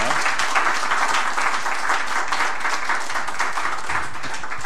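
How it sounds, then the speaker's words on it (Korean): Steady, dense applause from a church congregation at an ordination thanksgiving service, many hands clapping continuously and evenly at moderate loudness throughout, with no pauses. "여러분 박수해 주세요"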